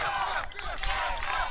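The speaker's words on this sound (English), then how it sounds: "The crowd's going nuts." A large crowd roars and cheers continuously at an ultimate frisbee final on universe point, with shouting voices and babble layered through the noise.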